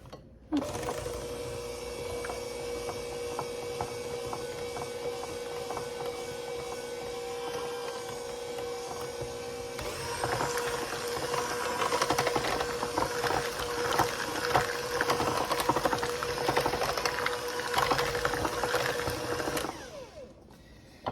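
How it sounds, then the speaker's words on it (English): Electric mixer whirring steadily through cornbread batter, a continuous motor drone that grows louder and busier about halfway through as the beaters dig in, then cuts off near the end, with no talking. "I guess it helps if you plug the mixer in"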